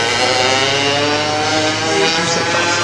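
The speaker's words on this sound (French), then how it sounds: "Ça, c'est pour une moto" A nearby motorcycle engine runs steadily and loudly for about three seconds with a dense harmonic drone, recorded near a technical installation.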